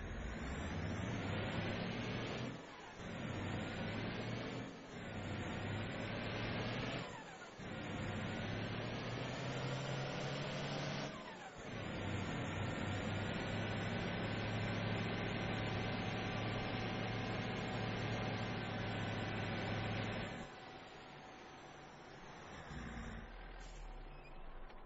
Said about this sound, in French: j'évite de trop causer quand je suis dans la voiture parce que le moteur est assez bruyant